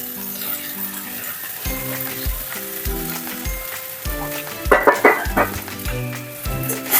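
Sago pearls frying in a pan for a vegetarian sabu polao, giving a steady close sizzle with stirring scrapes, under a background of recurring tonal music.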